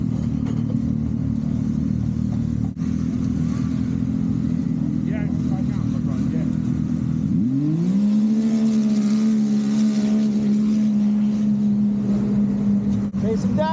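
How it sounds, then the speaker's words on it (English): Turbocharged snowmobiles race past with a loud, sustained engine drone that climbs sharply in pitch around the midpoint as one sled accelerates hard and then holds a high steady whine close by. "I like the sound of these turbo sleds already."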